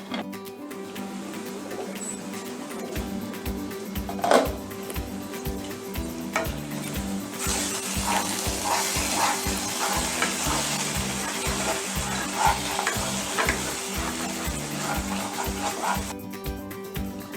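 A pan of egg curry gravy bubbles and sizzles as a spoon stirs it, with repeated scraping strokes and a steady frying hiss throughout, fairly close and with no talk.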